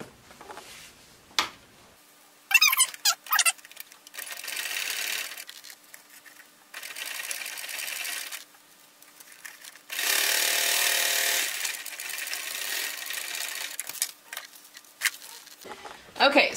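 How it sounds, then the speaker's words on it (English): A domestic sewing machine runs in bursts of steady stitching while a fabric pocket is sewn to the back panel of a Huxley bag, with pauses, handling noises and fabric rustling between the runs, close and moderately loud. "And we're just gonna sew along that same line we already stitched here, sewing the pocket to the back."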